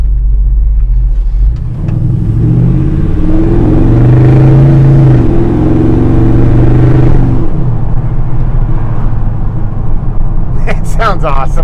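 A 1978 Chevy C10 squarebody pickup rumbles down the road, its deep engine and exhaust note rising and falling as it accelerates, heard from inside the cab with someone talking over it.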